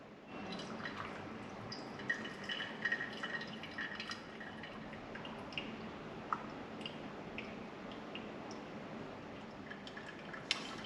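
Hot water poured over ground coffee in a pour-over brewer, brewing up to 240 ml, with a steady soft trickle and dripping running throughout, fairly quiet and close, with no talking.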